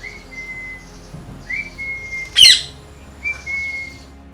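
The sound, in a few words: parakeets and other birds calling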